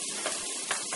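Thinly chopped shallots sizzle steadily as they brown in a pan, a continuous soft hiss and crackle with no talking.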